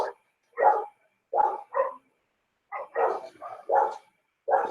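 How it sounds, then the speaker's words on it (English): Dogs barking nearby in short, irregular bursts, about ten sharp barks spaced by brief silences, clear and alone with no talk. "Damn dogs."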